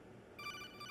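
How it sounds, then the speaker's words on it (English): A phone rings in Metal Gear Solid 2, an electronic ringtone with bright warbling tones that starts suddenly partway through, clear over a quiet background. "Getting a phone call."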